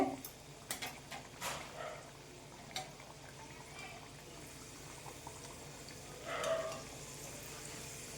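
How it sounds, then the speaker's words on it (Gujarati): Soft, steady frying sizzle of wheat flour kachori deep-frying in oil runs throughout, with a few sharp clinks and stirring scrapes near the start and a brief louder bubbling burst later. "ગેસની ફ્લેમને ધીમા ફાસ્ટ કરતું જવાનું છે અને કચોરીને તળી લેવાની છે"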